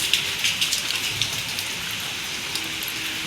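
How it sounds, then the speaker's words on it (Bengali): Heavy rain pours down outdoors in a steady, dense hiss with scattered droplet patter, continuous and fairly close, with no voices. "এত জোরে বৃষ্টি পড়ছে"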